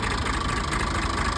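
A 1997 Massey 240 tractor engine runs with a steady, loud, close mechanical chugging drone, alone and without talk.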